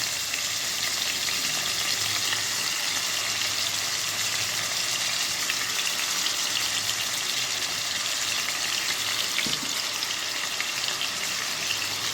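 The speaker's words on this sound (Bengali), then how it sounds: "লাল লাল করে ভাজতে হবে মাংসগুলোতে" Chicken pieces frying in a pan with yogurt and cashews, giving a loud, dense, continuous sizzle close up that holds steady throughout with no talk.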